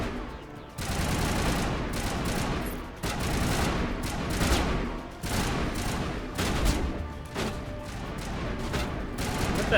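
Sustained gunfire in Mass Effect 1, dense bursts of rapid shots in loud waves that pause briefly before resuming, filling the whole stretch.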